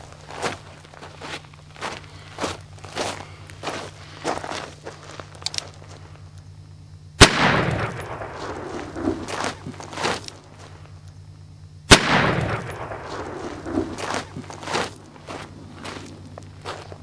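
An 1858 Remington cap-and-ball revolver fires two loud, sharp shots several seconds apart outdoors, each leaving a trailing rumble, between softer footsteps and handling sounds.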